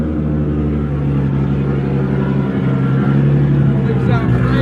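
A fully built Toyota 1.5JZ engine on fresh ethanol fuel idling loudly and steadily on a dyno right after its first start, a close, continuous deep drone with a slight rise near the end.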